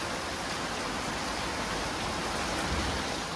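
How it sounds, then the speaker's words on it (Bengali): Heavy rain pours down amid strong wind during a dark storm, a dense, unbroken roar of water that stays even and loud throughout with no voices. "মুষলধারে বৃষ্টি হচ্ছে, প্রচণ্ড হাওয়াও চালাচ্ছে"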